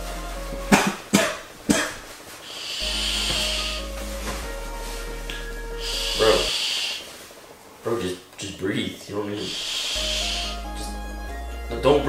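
Several harsh coughs from vaping break out amid people talking, with bursts of hissing vapor in between.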